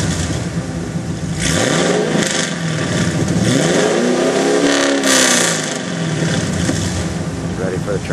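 A 2010 Camaro SS with long-tube headers and an X pipe revs hard, its deep V8 rising and falling in a couple of throttle blips close by, with people talking over it.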